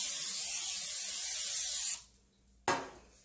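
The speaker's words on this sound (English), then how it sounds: "but I am going to spray it with cooking spray" Cooking spray hisses from a can into a nonstick cake pan in a loud continuous burst of about two seconds, then a brief second spurt after a short pause, with no voices.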